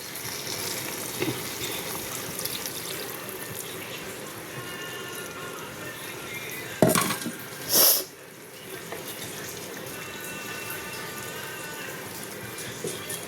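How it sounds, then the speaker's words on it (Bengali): Water left from grinding poppy seeds, nuts, cashews and raisins poured into a paneer curry on the stove, a steady splashing and sizzling that surges briefly in two louder bursts before settling back. "এবার আমি এর মধ্যে কিছুটা জল দেবো"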